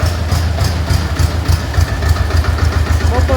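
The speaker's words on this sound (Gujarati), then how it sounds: "આ પુરસાનું ટ્રેક્ટર આવે છે લઈ" A tractor engine runs steadily nearby at a cattle and animal shelter, a loud low idling throb with a regular pulsing rhythm and no talk over it.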